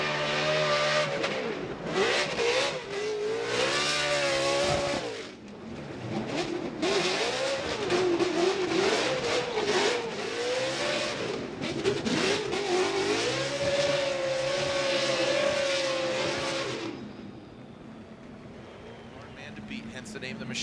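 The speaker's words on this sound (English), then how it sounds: "he is absolutely roasting those Nitto tires right out of the gate" An AutoZone Ford Mustang RTR Spec 5 FD drift car at a Formula Drift event revs hard with long wailing engine notes while its Nitto tires squeal. A commentator talks over the roaring run before it fades off.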